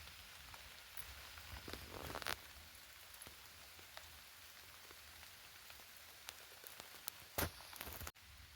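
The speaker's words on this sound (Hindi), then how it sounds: "बारिश रुकने का नाम नहीं ले रही" Faint, steady rain falling on open farm fields, a soft continuous hiss with occasional sharper drops and taps close by.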